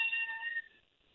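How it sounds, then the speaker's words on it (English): A cat meows once, up close and fairly loud, in a single drawn-out call that fades out at the end. "Oh, sorry, that's a cat."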